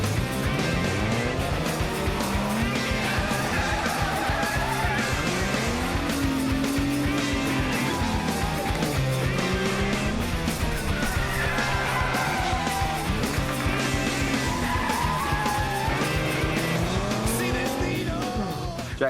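Toyota HiLux V6 pushed at full throttle, engine roaring continuously with rising and falling revs as tires squeal and skid repeatedly, loud and sustained throughout.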